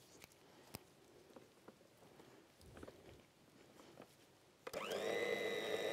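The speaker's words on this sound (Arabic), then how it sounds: "بس كده هنبدأ نعجن" An electric mixer starts up near the end and runs steadily as it kneads biscuit dough, following a few seconds of quiet kitchen clatter and soft knocks.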